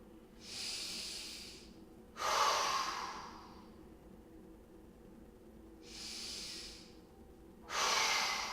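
Four forceful breaths during a beginner fitness exercise, inhales alternating with harder, sharper exhales timed to effort, close and clear with no talking over them.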